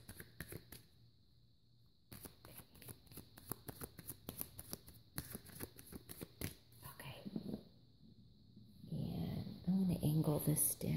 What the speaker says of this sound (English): I'll shuffle a few more times.